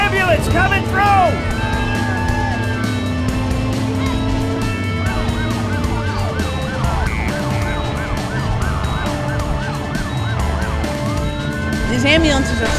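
Wailing ambulance siren in the Driver San Francisco video game, rising and falling sweeps over engine rumble and traffic, loud and continuous, with someone talking over it.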